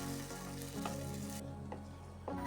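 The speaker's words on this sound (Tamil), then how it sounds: "அது கூடவே தேவையான அளவு உப்பு சேர்த்து நல்லா வதக்கிக்கலாம்" Onions, tomatoes and salt sauté in hot oil for a taro root curry, a steady close sizzle broken by a few soft stirring scrapes.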